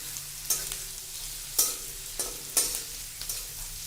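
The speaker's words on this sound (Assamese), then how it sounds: "আমি সাৰ্ডিনখিনি ক্যানৰ পৰা উলিয়াই কেৰাহীত বাকি দিম" Canned sardines in oil with chili and onions fry in a wok. A close, steady sizzle is broken by several sharp spatula scrapes and stirs at irregular intervals.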